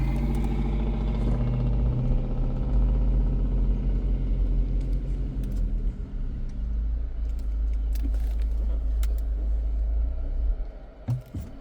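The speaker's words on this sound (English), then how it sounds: "no, we just had a stall" A GMC Terrain or Chevy Equinox engine runs with a steady loud rumble while driving, then the sound drops away and breaks up near the end as the engine stalls.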